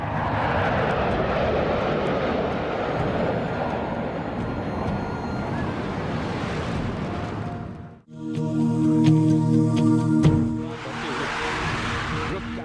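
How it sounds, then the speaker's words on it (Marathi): MiG-29 fighter jets roar overhead in a Republic Day parade flypast, a loud sustained jet rush that swells and fades. Near the end comes a brief break, then a harsher tonal whine and a renewed roar. "MiG-29 विमानाची राष्ट्रपतींना सलामी."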